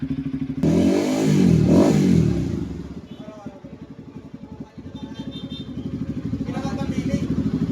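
A Kawasaki NS200 fuel-injected motorcycle engine warming up, with a loud rev early on, then a steady close idle that rises slightly toward the end while someone speaks briefly.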